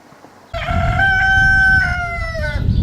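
A rooster crows once, loud and near, in a long drawn-out call, with low farmyard noise underneath.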